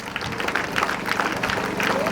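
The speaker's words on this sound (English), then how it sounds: "Clap for them." Audience applause at a WWF green schools project launch event in Uganda, a dense continuous patter of hand claps mixed with crowd noise and some background voices.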